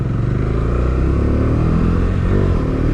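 A Bajaj Dominar 250 motorcycle slows under front-wheel braking, its engine a loud, close, steady drone with a slight drop in pitch near the end.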